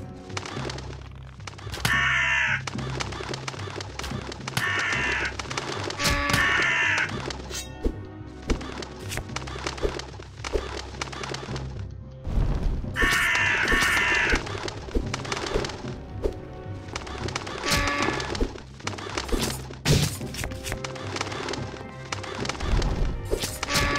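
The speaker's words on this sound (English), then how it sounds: "Birds." Crows cawing in the video game Unepic, a run of harsh calls in short bursts over game sounds and thuds, fairly loud and without talk.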